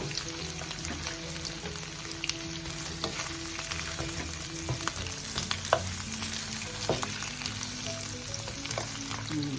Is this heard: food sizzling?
yes